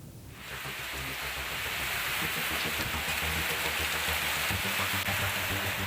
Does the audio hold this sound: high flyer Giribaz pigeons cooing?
no